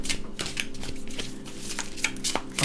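A deck of tarot cards is being shuffled by hand, giving quiet, close riffling and soft flicking in a steady run of rapid card slaps with no talking.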